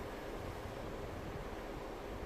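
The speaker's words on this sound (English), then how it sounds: "You can hear the water." Water rushes steadily through the Colorado Aqueduct's Cottonwood Tunnel, heard from a steel-topped vent as a faint, even, hollow roar with no break.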